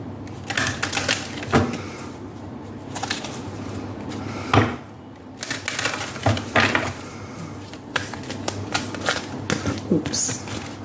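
An oracle card deck being shuffled, giving a run of rapid papery riffles and flicks with a few sharper snaps. A voice talks over the card handling throughout.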